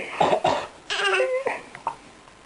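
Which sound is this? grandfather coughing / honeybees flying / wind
grandfather coughing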